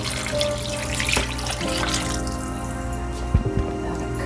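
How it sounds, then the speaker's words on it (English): About half a gallon of water pours into a pot of beef soup, a steady splashing rush that fills the whole clip, with a few clinks near the end. "Adding about a half a gallon of water."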